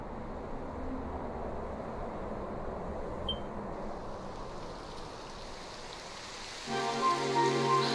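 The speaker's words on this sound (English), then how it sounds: "It would have to go and start raining, wouldn't it?" Continuous rainfall in the video game Dragon Quest XI hisses steadily throughout, with a faint tonal chime partway through and a brief musical tone rising near the end.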